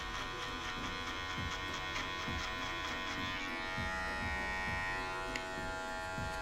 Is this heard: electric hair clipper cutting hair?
yes